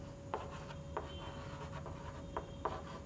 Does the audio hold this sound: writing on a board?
yes